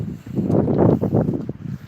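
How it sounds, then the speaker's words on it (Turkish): Wind gusting outdoors in a snowy old neighbourhood during a thaw, a steady broadband rush that swells and eases over a couple of seconds with no talk. "Havada rüzgar var arkadaşlar."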